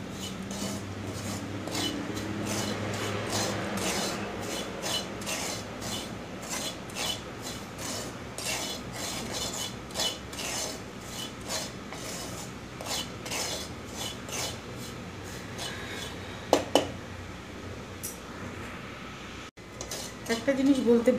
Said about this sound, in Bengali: সুজিটাকে ভালো করে রোস্ট করে নেব